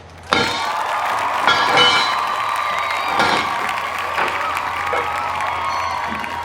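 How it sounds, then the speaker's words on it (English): A group of people at a racetrack crew workspace clap and cheer, bursts of applause rising and falling over a steady background hum, with a lingering ringing tone underneath. "Everybody come over and applaud."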